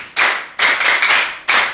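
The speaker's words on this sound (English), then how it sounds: "clap hands for her." Hands clapping at a Ugandan primary school gathering in Isingiro district, several short loud bursts of applause in quick succession, close by and free of talk.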